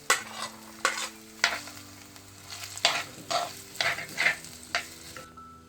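Small onions are stirred and fried in a pan with chicken. A spoon scrapes and knocks against the pan in irregular strokes over a sizzling background, with a faint steady hum underneath.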